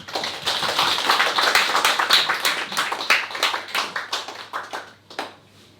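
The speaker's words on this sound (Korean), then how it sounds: "함께 우리 축하의 박수를 먼저 드리겠습니다." A church congregation applauds at an Easter Sunday baptism service, with fairly close, brisk clapping that holds steady for several seconds and then thins out and fades.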